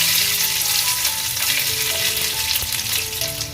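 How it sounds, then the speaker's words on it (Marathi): Mustard seeds sizzling and popping in two spoons of hot oil in a pan, a loud dense crackle with scattered sharp pops throughout, close and alone. "पॅनमध्ये दोन चम्मच तेल घालून घेते त्यांना आपल्याला एक चम्मच राई घालून घ्यायची आहे"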